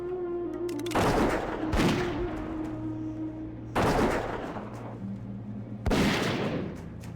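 Bursts of gunfire come from a dwarf character shooting in World of Warcraft Hardcore, with three loud, separate volleys spaced a couple of seconds apart over a steady in-game hum.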